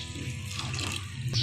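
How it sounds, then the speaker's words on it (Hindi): Half a glass of water poured into roasted moong dal and spices in a cooking pan: a steady splashing, gurgling rush lasting about a second and a half, close and fairly loud, with no talk over it. "अब हम इसमें पानी डाल देंगे।"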